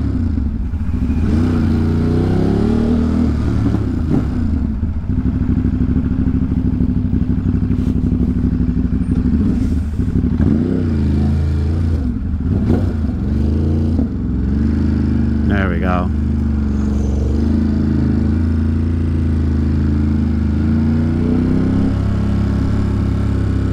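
A motorcycle moves through Manhattan traffic with a steady, loud engine drone that runs the whole time, while someone talks over it and a short squeal cuts through partway.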